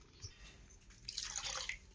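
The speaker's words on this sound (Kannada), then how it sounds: "ಒಂದ್ ಚರ್ಗೆ ಅಷ್ಟು ನೀರು ಹಾಕ್ತೀನಿ" Water is poured onto washed rice and lentils for soaking before making buttermilk idli, a soft trickling splash that swells for about a second, faint and alone with no talk.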